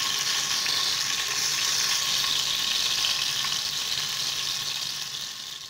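Chopped tomato with salt sautés in hot oil for a tengra fish curry, giving a steady, close, bright sizzle that eases slightly toward the end, with no voices.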